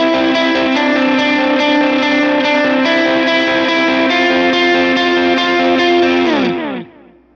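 Electric guitar riff from a song, played through chorus and distortion effects: sustained shimmering distorted notes repeating for several seconds, then a final chord that bends and fades out.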